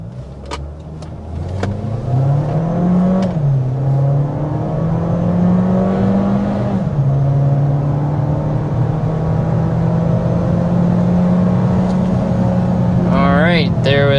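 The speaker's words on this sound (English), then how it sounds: "we're going to go ahead and start with a hard acceleration" A 2024 Volkswagen Taos all-wheel drive accelerates hard to 60 mph, its engine note climbing steadily and loud with a brief dip at a gear change, a continuous interior drone lasting throughout with a short voice near the end.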